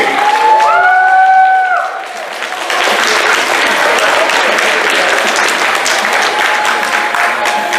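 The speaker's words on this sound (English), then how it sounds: "Please give a big round of applause to Mr. Andrew Turnbull, Mr. Chris Carter" An audience at a Transformers fan convention panel breaks into sustained applause, a dense, loud, even roar of clapping. A brief voice is heard at the start before the clapping takes over.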